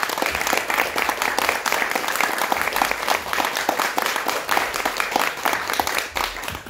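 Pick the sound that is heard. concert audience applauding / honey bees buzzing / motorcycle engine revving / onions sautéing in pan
concert audience applauding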